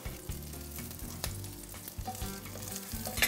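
Precooked sausages fry in a pan for a pumpkin pasta dish, producing a soft, steady sizzle with faint scrapes and stirring sounds, quiet and close with no talking.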